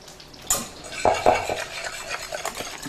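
A metal spoon stirs and scrapes around a bowl of tartar sauce made with black olives, dill pickle, parsley and lemon juice, giving a few close, distinct scraping strokes followed by softer clinks and rubbing.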